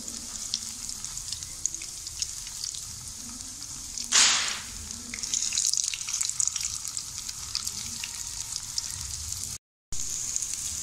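Potato seekh kebabs (aloo seekh kabab) frying in a pan give a steady, close sizzle with a louder crackling burst as they are turned partway through.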